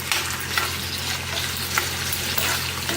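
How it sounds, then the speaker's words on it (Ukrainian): Steady, dense sizzling of beetroot frying in a pan for borscht, with occasional scraping clicks from stirring, no talking. "Зараз секунд 30 бурячок підсмажу"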